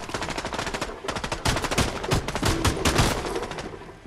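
Dense rapid gunfire in a one-gun challenge shooter video game, bursts of automatic fire and shots crowding together loudly and continuously through the whole stretch.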